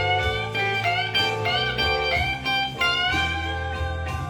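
An electric blues guitar lick played high up the neck rings out steadily with bright sustained bends and overlapping notes and no talk.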